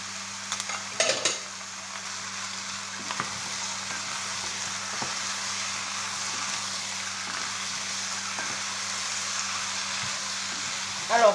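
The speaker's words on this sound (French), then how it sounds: "Là, on va mettre nos champignons." Mushrooms go into a hot frying pan and sizzle steadily while being stirred, with a few utensil clinks against the pan near the start and end.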